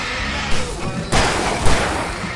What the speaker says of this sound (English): I can set off more of the fireworks!